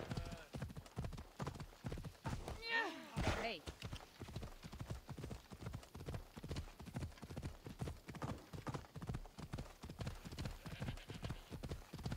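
A horse in the Assassin's Creed Odyssey video game gallops in a steady rapid clip-clop and gives a brief neigh partway through, with someone talking over the hoofbeats throughout.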